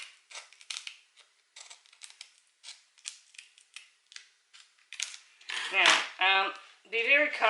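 Repeated snips of scissors cutting anti-slip traction material for footwear, a steady series of short dry cuts, close and fairly quiet, with a rustle of handling at the end.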